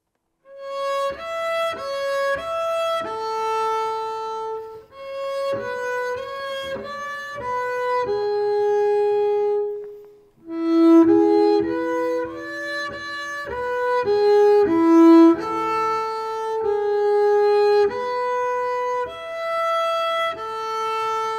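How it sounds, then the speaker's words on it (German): Bright, bell-like flageolet harmonics plucked on a double bass, with single notes and short runs ringing out clearly over a phrase, a brief pause midway, then more chiming tones with no voice. "Das sind dann sogenannte Flageolettöne oder auch Zaubertöne genannt."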